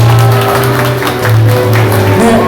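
A crowd gives a short burst of applause for Hwang Kyo-ahn after an appointment ceremony at an Incheon gathering. The steady clapping fills the whole clip over a low hum, with no talking.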